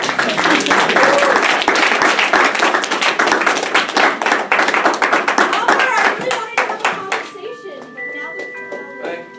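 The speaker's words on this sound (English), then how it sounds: "you can applaud" Students in a classroom applaud after a social justice presentation on homophobia, loud close clapping that breaks into scattered claps and dies away after about six seconds, leaving a quiet room with a faint tonal ring.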